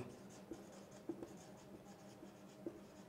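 Chalk or marker taps and scratches on a board during a physics lesson, a few short strokes spread across a quiet room with faint background noise.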